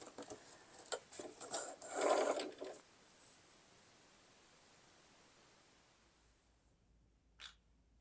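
A Feiyue FY-E350 sewing machine stitches through eight layers of denim in a brief, fairly faint whir. A soft hiss and rustle follow, then a small click near the end.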